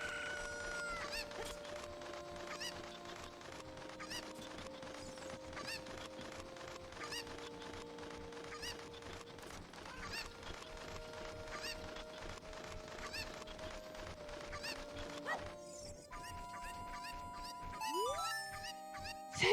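Cucco chickens in the game Ocarina of Time cluck and squawk in a busy, repeated chatter, fairly faint beneath steady game music, with no talk.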